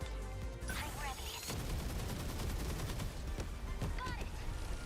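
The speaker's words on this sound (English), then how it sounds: "We got all those wonderful sentry cannons firing like crazy" Sentry cannons firing continuously in the video game 13 Sentinels: Aegis Rim, a steady rapid barrage of thudding shots over a busy battle mix, with speech layered over it.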